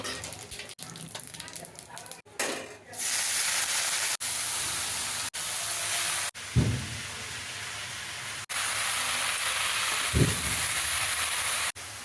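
Dried red chilies and cumin seeds hit hot oil as a tempering for red amaranth greens, giving a loud, steady hiss and sizzle broken by a few abrupt cuts and a short low thump.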